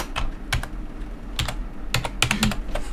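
Quick taps on a computer keyboard while an Alt code is entered, a close, irregular burst of clicks and key presses with no talking.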